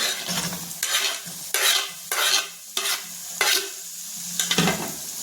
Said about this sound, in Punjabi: ਤੇ ਹੁਣ ਆਪਾਂ ਪਾ ਦੇਵਾਂਗੇ ਜੀ ਟਮਾਟਰ